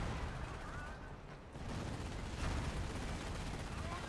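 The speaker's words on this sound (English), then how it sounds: "Artillery being called in on the pack." Artillery barrage in the Company of Heroes video game, a dense, distant rumble of shelling and gunfire that swells and keeps rolling, faint and steady, with no clear voices.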